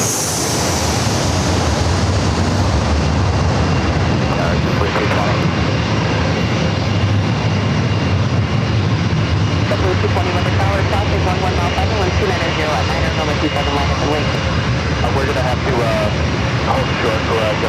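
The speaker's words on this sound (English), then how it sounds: "we got the Japan Airlines Dreamliner starting its taxi" A Japan Airlines Dreamliner begins taxiing toward runway 27 at San Diego airport, giving a loud, constant jet rumble and whine that runs unbroken throughout while voices and radio calls carry over it.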